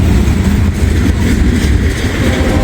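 CSX geometry train rolling past close by, a loud, steady broadband rumble with heavy low-end engine drone and faint wheel clatter, continuous without talk.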